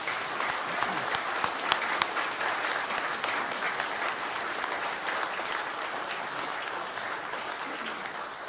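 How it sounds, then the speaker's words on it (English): Sustained applause from a council chamber audience at a city council meeting in Amarillo, steady and dense clapping throughout with no talk over it. "if we would just give them all a giant round of applause for what they've accomplished"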